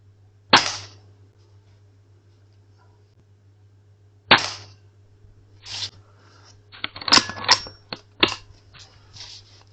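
Air rifle shots fired at a homemade target on a small outdoor DIY range: two sharp, well-spaced cracks, then a quicker cluster of clicks and snaps, likely from cocking and loading, over a steady low hum.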